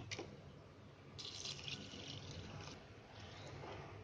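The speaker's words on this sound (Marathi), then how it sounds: "आता त्याच्यामध्ये तुम्हाला पाणी टाकायचं दाखवते." Water is poured over rice in a pan for button mushroom pulav, a soft, faint hissing splash in two stretches with quiet room tone between.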